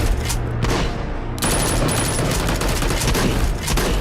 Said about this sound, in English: Yo, that shotgun ain't gonna do shit from that range, Amos.